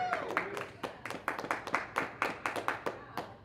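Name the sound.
audience applause at town hall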